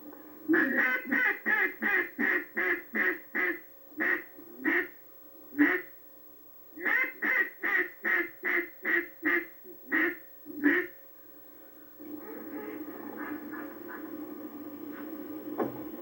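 A wooden duck call imitating a hen duck's security call, in rapid rhythmic bursts: two runs of about ten quick quacks each, loud and close, followed by softer continuous chatter.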